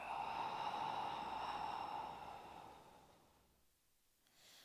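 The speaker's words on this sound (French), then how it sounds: "on inspire ensemble. Et on souffle" A single long, faint exhale during a flat-belly thoracic breathing exercise, a soft airy breath that fades out over several seconds.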